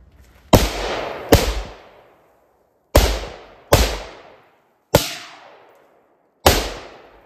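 Six sharp gunshots fired at a target during weapons training, loud and close, spaced irregularly over several seconds, each with a quick crack and a short decaying tail, no voices between them.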